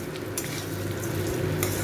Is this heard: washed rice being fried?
yes